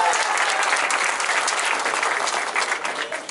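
A crowd claps loudly and steadily, dense applause that holds strong throughout and only slightly thins at the end.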